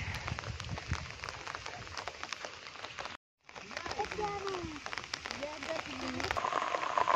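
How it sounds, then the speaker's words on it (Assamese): Steady heavy rain patters and hisses on surfaces while people talk faintly underneath at a fish-drying spot; a short silent gap breaks it partway. "বিৰাট ডাঙৰ বৰষুণ আহিছে"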